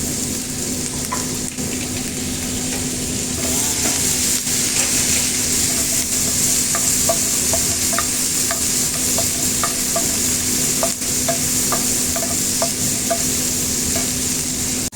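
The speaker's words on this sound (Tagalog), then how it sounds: "pasensya na po sa sounds guys kasi sa exhaust fan po yan siya" A kitchen exhaust fan runs while pechay with sardines cooks on the stove, giving a steady, even broadband whir with a low hum underneath and faint clinks of stirring throughout.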